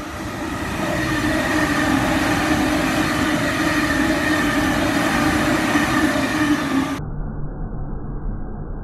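A Sydney Trains B set passes close by with a loud, steady roar of wheels and motors and faint squealing, sustained for several seconds before the sound cuts to a duller tail.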